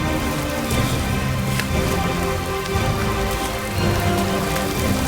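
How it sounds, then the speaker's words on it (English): Heavy rain pours down loudly and continuously, drumming on surfaces close by with a dense, unbroken hiss. "Oh man, it's really raining out here."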